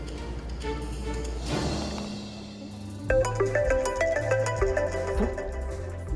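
A phone rings out while a call is being placed, starting as a low tone and then turning into a repeating melodic ringtone tune, clear and fairly loud, with no talking.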